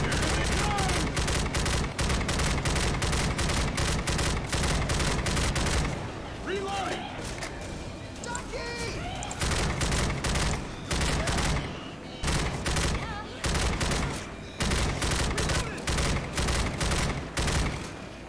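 Gunfire from a sniper rifle and other weapons in Left 4 Dead 2, loud rapid bursts of shots in repeated volleys, with a short quieter break in the middle where faint voices and game sounds come through.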